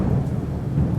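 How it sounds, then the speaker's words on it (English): Deep, continuous rumbling of thunder from a massive storm at sea, a low roar with a rain-like hiss over it, loud and steady throughout. "The ship is hit by a massive storm."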